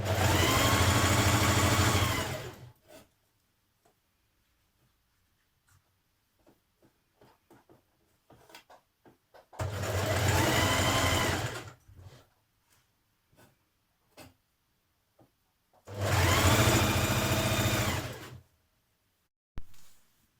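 A sewing machine runs in three separate bursts of steady whirring while stitching the side seams of a Burda 6240 summer dress. Quiet gaps with faint handling clicks fall between the bursts.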